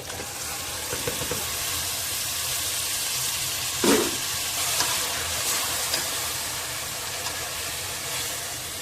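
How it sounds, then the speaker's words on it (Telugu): Marinated chicken sautéing with masala, tomato and onion in a pressure cooker for chicken biryani, a steady broadband sizzle throughout with a sharper scrape or stir near the middle and light clinks. "బాగా ఒక 5 మినిట్స్ సాటే చేసుకుందాము"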